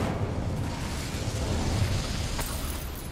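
A fiery Incendio spell is cast in Hogwarts Legacy, filling the scene with a steady, roaring rush of flame and low rumbling that holds for several seconds, with a faint crackling burst near the end.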